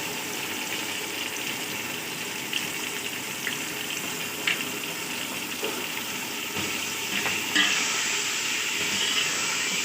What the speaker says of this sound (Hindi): टमाटर शामिल करने के बाद इसको हल्का सा बस चलाएंगे।